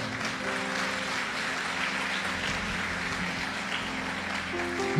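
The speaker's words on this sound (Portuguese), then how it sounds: "se você vai aplaudir, faça com vontade, faça com alegria" Church congregation applauding steadily for several seconds, a dense wash of many hands clapping with a faint murmur and a sustained musical tone underneath.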